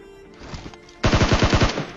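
Automatic gunfire aimed at an enemy player in a video game: a few scattered shots, then a loud, rapid burst of about eight close shots.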